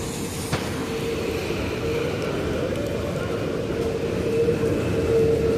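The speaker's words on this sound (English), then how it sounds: "Yep, that is 5 train." A New York City subway 5 train rolls past at Simpson Street in the Bronx, a steady loud rumble of wheels on rail with a sustained squealing whine that holds for several seconds. Rain falls, and no voices are heard.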